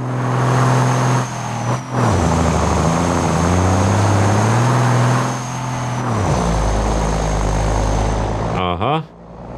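A heavy truck engine with twin turbochargers in the BeamNG driving game, droning loudly with rising and falling revs and a thin steady high whine across the clip, briefly dipping at a few gear changes.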